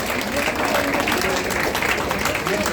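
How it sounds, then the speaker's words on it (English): An audience applauds at a university science camp award and certificate ceremony, with continuous clapping and voices mixed in throughout. "Please give a big round of applause."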